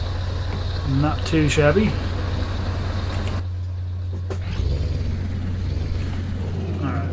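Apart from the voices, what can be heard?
Scania Streamline truck engine, video game Euro Truck Simulator 2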